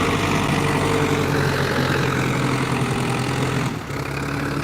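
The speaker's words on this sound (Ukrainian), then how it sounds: "Сьогодні на тракторі працює Микола" A tractor engine runs steadily at close range, a low, dense idling drone with harmonic hum that continues throughout and dips briefly near the end.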